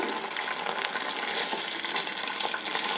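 Homemade coconut oil simmering in a pan, a dense continuous bubbling sizzle at moderate volume with no breaks.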